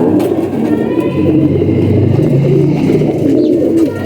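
Pet pigeons in a loft setup cooing continuously and close up, with soft rolling coos layered over a steady busy background.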